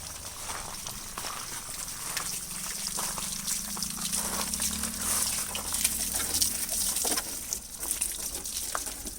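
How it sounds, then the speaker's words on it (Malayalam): Water sprays and splashes in a continuous gushing stream against a motorbike, close up, washing off dust and mud, with uneven bursts as the jet moves around. "നന്നായിട്ട് വെള്ളം അടിച്ച് ഫുള്ള് പൊടിയും ചെളിയും എല്ലാം കളയണം"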